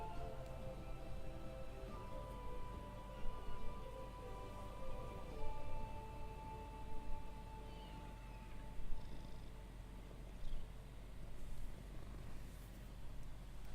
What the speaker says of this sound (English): This is my thief kitty.